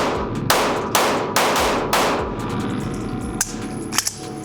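A stock AK-47 rifle fires four loud, sharp shots at an even pace about half a second apart, followed by a few fainter clanks and clicks.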